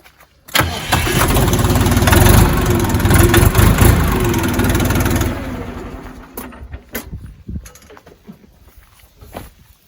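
A Dongfeng tractor engine cranks and catches with a loud roar, runs hard for several seconds, then drops to a quieter, uneven idle with scattered clanks nearby.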